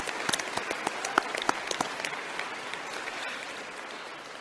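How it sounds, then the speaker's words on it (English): Applause from an audience at the Assembly of First Nations annual general assembly, a burst of sharp individual claps at first that settles into a steady, moderate wash of clapping from the gathered crowd. "Give yourselves a round of applause."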